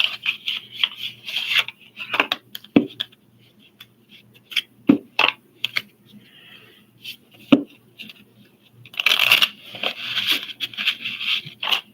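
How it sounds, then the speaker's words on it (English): Oracle cards from a Rose Oracle deck being shuffled by hand, a run of soft papery scrapes and riffles broken by sharp taps as the deck is squared, with a denser burst of shuffling near the end and no talking. "we're going to pull cards from the Rose Oracle."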